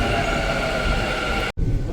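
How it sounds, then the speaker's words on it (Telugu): A loud, steady rumble of a metro train arriving on rails, briefly cut off near the end before resuming. "చలో మెట్రో అయితే వచ్చేసింది."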